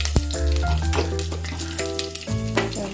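Steady sizzling of curry leaves frying in hot oil, continuous and close, with a low hum and brief crackles throughout.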